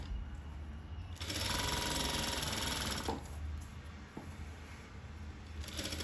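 Sewing machine running in a steady stitching burst along a dress shoulder seam, pausing briefly then resuming, close and fairly loud with no talk.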